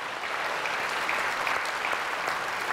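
A church congregation claps in a dense, even burst of applause that fills a large worship hall, steady and fairly close throughout.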